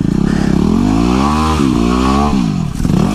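A dirt bike engine revs hard on a wooded trail, its pitch climbing and dipping through several throttle surges, loud and close throughout with no talking.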